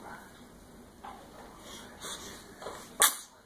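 A single sharp, sudden sneeze bursts out near the end, following a few softer breathy snorts against a quiet room background.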